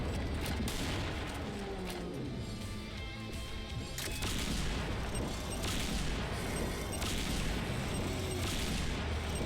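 Rocket fire and dense explosions roar without pause in the first-person shooter Serious Sam Fusion, a loud continuous barrage of booms and gunfire with repeated blasts stacking on one another.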